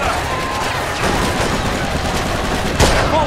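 Gunfire in the crime game Mafia 2, a loud dense barrage of shots running continuously and close up, with a sharper crack near the end and no talking over it.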